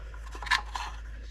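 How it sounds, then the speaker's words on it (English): Cutters snip through wires during assembly of a Marui Big Bear RC monster truck: one sharp, close metallic snip, then a fainter second click, in a quiet room with no talk. "I'm going to run these wires through. We're going to cut them."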